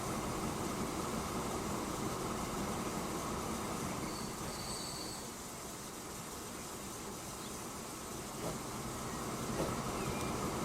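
Trains rolling through a Transport Fever 2 game world as the first set leaves the depot to collect loads: a continuous low rumble of rail cars with faint wheel squeals, steady and moderately distant throughout.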